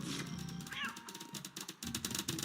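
Cat-like Bow Meow creatures in the video game Wakfu, a short high meow over busy game sound effects and clicks.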